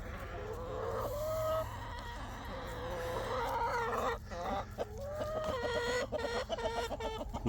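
Backyard chickens clucking nearby in a string of short, repeated calls, with a rooster among them, over a steady low outdoor hum.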